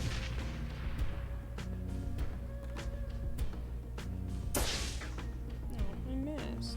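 A grenade blows up in Shadowrun: Hong Kong as one sharp, broadband blast partway through, set against steady game music and someone talking.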